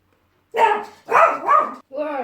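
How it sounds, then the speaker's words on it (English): A nearby dog barks in three short, loud bursts, the second drawn out into a double bark, followed by a softer whiny yelp. "My dog is barking."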